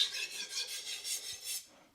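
A knife blade is drawn across a sharpening stone in about six even, rhythmic rasping strokes, close and soft, with no voices.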